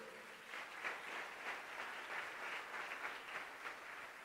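A church congregation applauding at a sermon, a steady wash of clapping heard faintly and from a distance, holding evenly with no speech over it.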